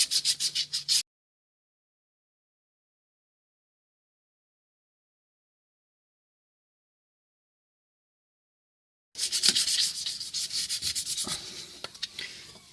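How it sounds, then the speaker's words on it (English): Sanding with 400-grit sandpaper on a front sway bar mount area of a 1999 Subaru WRX: a short burst of rubbing, a long silence, then several seconds of steady, close, scratchy back-and-forth strokes. "Now I'm going to get some 400 sandpaper and give it a polish."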